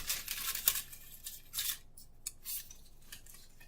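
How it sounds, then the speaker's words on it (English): Paper being folded and creased while making a template for an American flag cake: soft, close crinkling and sharp swishing rustles in short bursts, faint and intermittent with quiet gaps between. "Now I'm gonna fold it the other direction"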